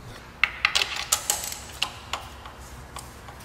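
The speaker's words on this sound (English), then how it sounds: "I heard all the fuel injectors working" Fuel injectors in a 1997 Nissan Altima engine tick away in a light, uneven series of clicks. The clicks are fairly faint and grow sparser over a few seconds against a soft engine-bay hiss.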